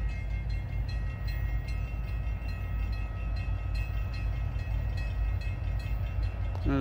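A Great Lakes Central Railroad train draws near an active crossing, its steady rumble loud and close with a constant bell or signal tone ringing above it, and no voices.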